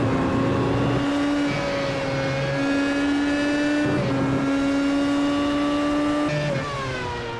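A race car engine in a sim racing video game screams at high revs, its pitch climbing steadily and then dropping with each of several upshifts, loud and close throughout.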